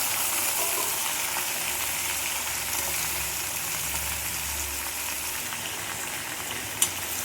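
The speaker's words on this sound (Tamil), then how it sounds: "இப்போ இதை நல்லா வதக்கிடலாம்." Country chicken curry sautés in a pan, a steady, moderately quiet sizzle with a low hum underneath and one small knock near the end.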